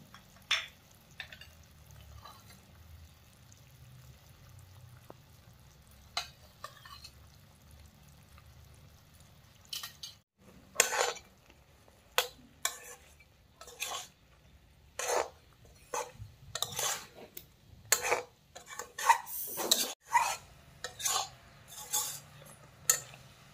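A spoon stirs drumstick pickle in a pan with jaggery and amchur powder added, a soft cooking hiss first, then a run of sharp scraping and clinking strokes against the pan, close and moderately loud.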